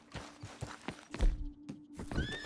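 Horse neighs and hoof clip-clops from the game Red Dead Redemption 2, several sharp hoof knocks and a whinny close by, with short bursts of activity and no talking.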